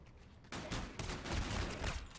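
Rapid gunfire in a Call of Duty Zombies match crackles in loud, overlapping bursts that begin abruptly and continue with heavy low-end thumps, with no talk over it.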